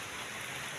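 Steady, even rain falls continuously around a rural home in the morning, a dense, moderately quiet hiss with no voices over it.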